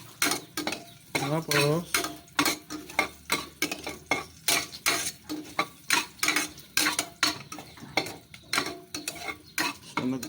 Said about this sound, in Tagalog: halo-haloin mo para hindi masunog yung bawang.